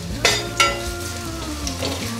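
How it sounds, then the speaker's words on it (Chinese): An iron spatula stirs cubes of tofu and Chinese yam in a hot pan, with two sharp scraping clatters over a steady oily sizzle. "山药不容易戳破，可以直接用铁铲来炒"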